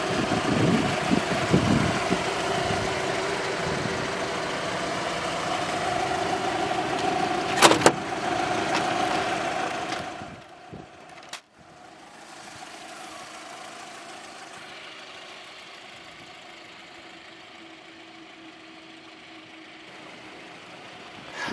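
A Volkswagen Bora's naturally aspirated 1.6-litre inline-four, 8-valve engine idles steadily with a low hum, a couple of sharp clicks partway through, then settles into a quieter, even drone for the rest.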